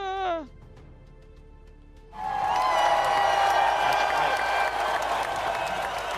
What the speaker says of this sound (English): Let's have some applause for the mountains.